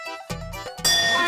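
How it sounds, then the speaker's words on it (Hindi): A metal bull's bell from a village is shaken, giving a few sharp clanks and then a bright, sustained ringing that stays close and loud. "ये घंटी जो पड़ी है, ये हमारे गांव में जो है, ये वो गाय के गले में नहीं डालते, बैल वाली घंटी"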